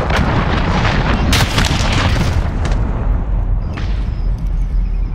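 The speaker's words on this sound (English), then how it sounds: "Allied cruise missile on the way." Cruise missile strike in Call of Duty Modern Warfare: a loud, dense barrage of heavy booms and blasts rolling on continuously, with sharp impacts over a deep sustained rumble.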